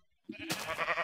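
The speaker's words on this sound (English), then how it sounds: "Oh, that sheep better move out of the way." Sheep bleating inside a village-building video game, a short bleat rising abruptly after a quiet start and holding loud and close to the end.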